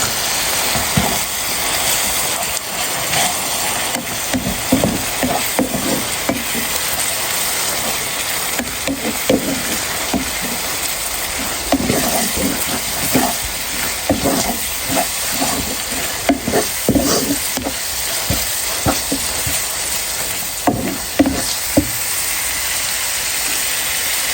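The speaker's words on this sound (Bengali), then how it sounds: "দিয়ে রাখা শুটকিগুলো দিয়ে দিলাম। তো শুটকিটাকে কষাই নিব" Dried loitta fish sautéing with coriander, cumin, chili powder and turmeric in a pan: a loud, constant hissing sizzle with repeated scraping stir strokes spread across the whole stretch.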